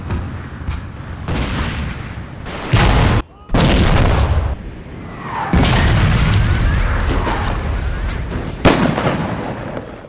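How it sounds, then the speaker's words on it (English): Heavy artillery bombardment in a Total War game set at the 1862 Battle of Fredericksburg, with Confederate guns firing: loud, dense booms and blasts rolling continuously, several sharp cannon reports standing out over a constant roar of battle. "the Confederates opened up with the full force of their artillery."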